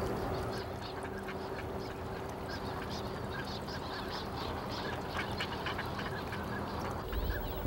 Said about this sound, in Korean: 되살아난 송지호에 철새들이 몰려든다.